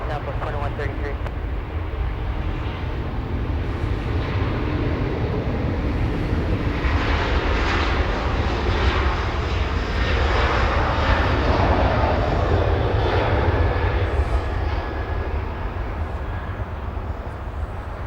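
A departing airplane at Los Angeles International Airport roars steadily and loudly for the whole stretch, a broad continuous jet rumble with a faint voice murmuring underneath.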